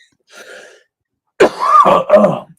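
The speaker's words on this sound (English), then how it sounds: "I'm still coughing occasionally" A soft throaty sound, then a sharp, harsh cough from a lingering cold, bursting with rasping follow-through, close and loud with no talking.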